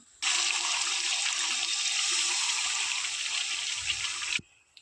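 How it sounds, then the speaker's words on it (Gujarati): A steady rushing gush of water poured into a pot of fish curry for about four seconds, starting and stopping abruptly. "તો આપણે આમાં થોડુંક પાણી નાખી દેશું તો મચ્છી અસલ પાકી જાય"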